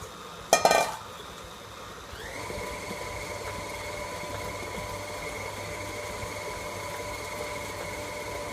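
Electric mixer beating cookie dough of combined wet and dry ingredients, opening with a sharp metallic clatter, then a steady whirring motor hum that starts partway through and runs on evenly.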